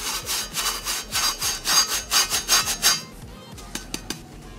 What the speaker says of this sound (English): Look, that's just from one scrub.